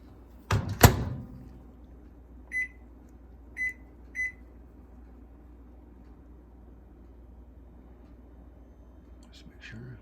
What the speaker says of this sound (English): I'm going to go ahead and put it in the microwave, and I'll set it for 1:40